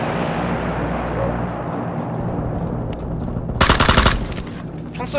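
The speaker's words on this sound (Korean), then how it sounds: "총소리 하나 더 가깝긴 하지 않았어요?" A sustained burst of rapid gunfire in the video game PUBG: Battlegrounds crackles loudly over a constant rumbling background, firing in a dense volley for about half a second.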